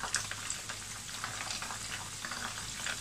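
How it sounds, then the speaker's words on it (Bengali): Chicken frying in a pan at home with spices, a soft continuous sizzle and crackle with light popping, fairly quiet and steady, no voices. "চিকেনগুলোকে সব দিকে ঘুরিয়ে ঘুরিয়ে প্রায় 8 থেকে 10 মিনিট মতো আমি ফ্রাই করে নিলাম"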